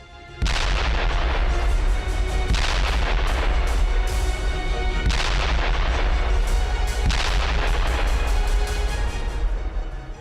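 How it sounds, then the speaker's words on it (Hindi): Heavy aerial bombardment by the Israeli military on Hezbollah positions, a continuous loud roar with repeated booming blasts about every two to three seconds, dense and close throughout. "आसमान से आईडीएफ की बमबारी।"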